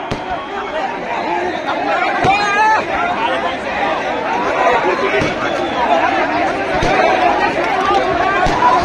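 A large crowd packs the ground before a political rally stage, a constant hubbub of many overlapping voices with shouts rising out of the babble, loud and close throughout.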